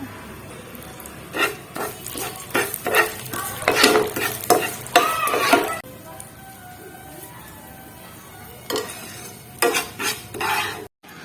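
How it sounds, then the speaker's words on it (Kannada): Poppy seeds fry in hot ghee in a pan while a spoon stirs them in repeated scraping strokes over a steady close sizzle. The stirring is loud and nearby, then pauses before resuming in short bursts. "ಕಾದಿರುವಂಥ ತುಪ್ಪಕ್ಕೆ ಈಗ ಗಸಗಸೆ ಹಾಕ್ಕೊಳ್ಳೋಣ ಒಂದು ಎರಡು ಸ್ಪೂನ್ ಅಷ್ಟು ಇದನ್ನು ಇವಾಗ ಚೆನ್ನಾಗಿ ಫ್ರೈ ಮಾಡಿಕೊಂಡು"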